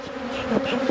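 Honeybees buzz steadily inside a hive box during a beekeeper's inspection of a nuc colony, making a close, dense hum with slight swells.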